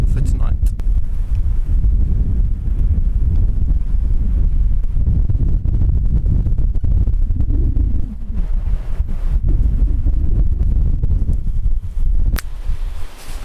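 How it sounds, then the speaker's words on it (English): Strong wind on the Cornwall coast buffets the microphone and a pitched tent in a loud, continuous low roar with gusting surges throughout. "The problem tonight is that it's very windy and my tent is blowing like mad."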